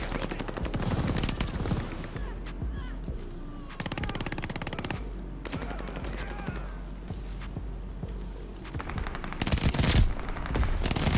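Dense gunfire in the Call of Duty Vanguard video game, with rapid machine-gun bursts and repeated shots hammering loudly and almost continuously over the whole stretch.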